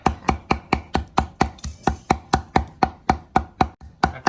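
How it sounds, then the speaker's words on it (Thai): A knife chopping fish meat into a paste for Thai fish balls, a close, steady run of about seventeen sharp, evenly timed thuds on a wooden board, brisk and loud, with no voices. "ขั้นตอนต่อไปก็สับแล้ว"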